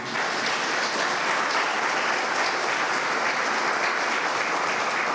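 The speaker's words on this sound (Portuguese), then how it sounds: "Eu peço um aplauso para este homem de Deus." Dense, steady applause from a church congregation at an evangelical gathering, a loud continuous wash of many hands clapping without pause.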